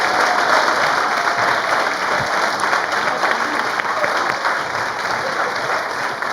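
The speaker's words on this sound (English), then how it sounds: "Let's give a big round of applause to these graduates" A large crowd claps steadily for graduates at a high school graduation ceremony, loud dense applause holding evenly throughout with a faint murmur of voices mixed in.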